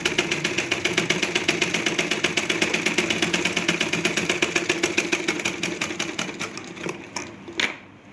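Sewing machine running steadily while stitching blouse fabric, a fast even mechanical chatter that slows and stops near the end, close and alone with no talk.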